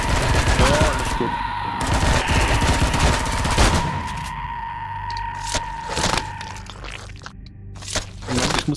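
Weapons firing in the sci-fi game Empyrion Reforged Eden, loud bursts of rapid gunfire and impacts through the first half, then scattered sharper shots and clatter, with a voice talking in parts.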